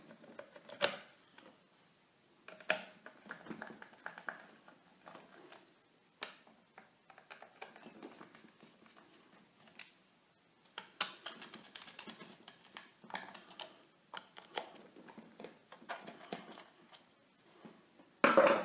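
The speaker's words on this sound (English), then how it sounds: "There are 5 screws on the back of this detector. So let's go ahead and just remove them." Five screws being backed out of the rear of a metal detector, heard as scattered close, faint clicks, taps and small plastic rattles in a quiet room, arriving in irregular bursts rather than a steady rhythm.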